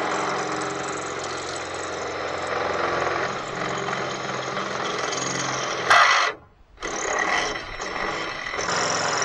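A power tool cuts through a metal tube for a homemade tractor stand, a loud, steady motorized whine that runs continuously, breaks off abruptly into a brief near-silence, then starts up again.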